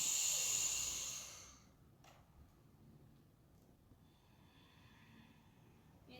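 One loud, breathy rush of air during an inner thigh stretch, lasting about a second and a half, then fading into near silence.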